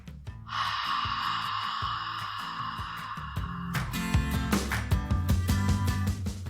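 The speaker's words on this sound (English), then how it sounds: "Take another deep breath in and out." A slow, deep breath is drawn in and then let out during a guided mindfulness meditation, with soft airy breathing set against gentle tonal background music.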